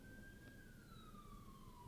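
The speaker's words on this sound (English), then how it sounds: "Sirens in the background. There's been a lot of those recently." Distant wailing siren from an emergency vehicle, a single steady tone slowly falling in pitch, heard faintly beneath a constant low background rumble.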